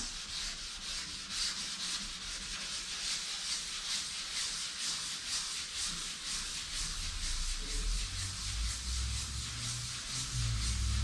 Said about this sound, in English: As you sand it, it will feel like you go from wet pavement to ice.